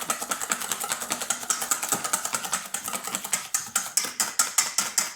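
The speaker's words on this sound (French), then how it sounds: "je prends l'habitude de bien mixer mes œufs au départ" Eggs beaten in a bowl with a mixer for a classic praline yule log: rapid, regular clicking pulses, several per second, close and steady for a few seconds.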